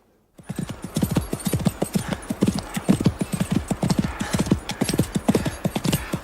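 Horse hooves clip-clop rapidly and steadily during a ride before breakfast, with many close, loud hoofbeats in a quick galloping rhythm that continue throughout.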